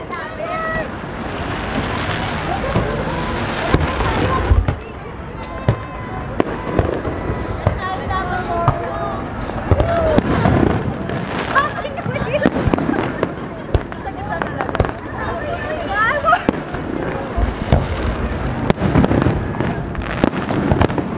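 Fireworks burst over the water during an evening dhow cruise on a Dubai river, a dense run of pops and crackles under wind buffeting the microphone, with people cheering and talking throughout.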